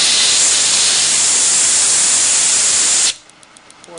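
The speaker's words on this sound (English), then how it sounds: "I'm just about to blow some compressed air over it to see how the spark changes." Compressed air blasts over a sparking Ball spark plug in a loud, steady hiss for about three seconds, then cuts off abruptly, leaving faint rapid ticking.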